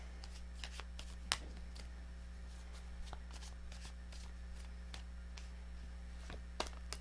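Tarot cards shuffled during a reading give soft, scattered riffling taps with a couple of sharper snaps, faint and alone over a steady low hum.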